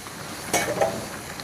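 Boiling oil is poured into gram flour being stirred for Mysore pak, giving a sudden short burst of sizzling with a quick scrape of stirring, then a faint hiss.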